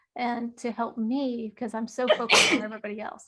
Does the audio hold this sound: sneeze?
yes